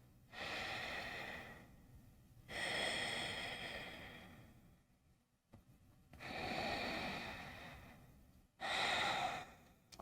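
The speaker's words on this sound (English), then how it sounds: "breathing deeply" Deep, slow breathing during Ashtanga yoga practice in the standing Samastitihi position, with four long, close breaths in a steady rhythm separated by short pauses and no talking.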